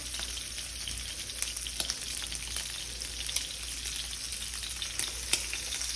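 Meat, backstrap or tenderloin, fries and is basted in butter in a non-stick pan, giving a dense, continuous sizzle with scattered pops and spatters, close and fairly loud.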